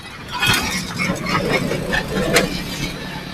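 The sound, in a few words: motorcycles and traffic passing on a road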